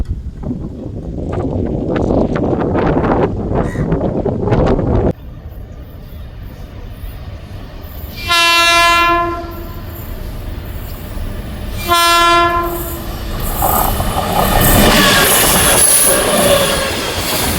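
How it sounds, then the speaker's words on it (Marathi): A WAG-12 electric locomotive passes on a bridge over the Sharavati river in Karnataka, sounding two long horn blasts over steady rumbling and rolling wheel noise, after some earlier background sounds. "आता जे तुम्ही इंजिन बघितलं ते होतं वॅक ट्वेल्व इंजिन बारा हजार हॉर्स पॉवरचं"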